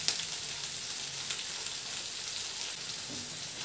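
Three carrots frying in a pan give off a steady, close hiss and sizzle that runs unbroken throughout, with no talking.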